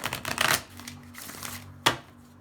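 Tarot cards being shuffled by hand give a quick run of dense riffling clicks, then a softer stretch of card handling and one sharp slap near the end, all close and fairly quiet with no talking.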